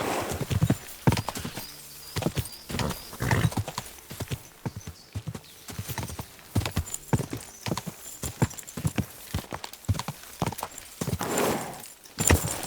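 Irregular clip-clopping hoofbeats from a horse in the video game Kingdom Come: Deliverance II, sharp and close, with uneven pacing and brief pauses between bursts of steps.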